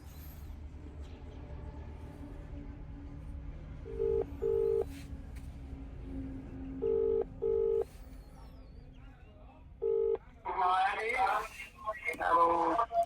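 Mobile phone keypad tones sound in a few short separate bursts over a low steady hum, then voices start talking near the end.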